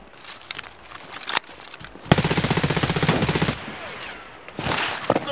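Gunfire in Escape From Tarkov during a sniper fight: a few sharp shots in the first seconds, then a long rapid automatic burst of evenly spaced cracks, followed by quieter scattered shots, loud and close.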